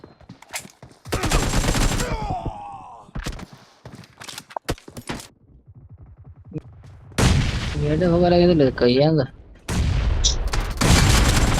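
Heavy volleys of shotgun fire in a video game, some single sharp blasts and some dense bursts, with a wavering tone rising over the shooting midway.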